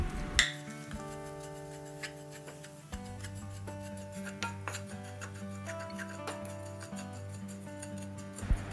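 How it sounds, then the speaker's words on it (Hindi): Desiccated coconut is dry-roasted in a kadhai, with a soft scraping and ticking of the spoon against the metal pan under a steady tonal kitchen hum, fairly quiet and close. "अब जो ये नारियल बुरादा है इसको हल्का सा सेक लेंगे।"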